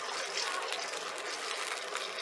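About a quarter to half cup of water gushes and splashes steadily into a cooking pot, a continuous bright pouring sound, close by and fairly quiet.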